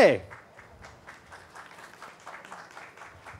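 Faint applause from an audience at a live song launch event cheering for a singer, a steady patter of many hands with voices over it.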